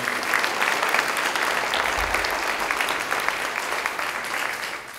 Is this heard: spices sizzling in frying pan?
no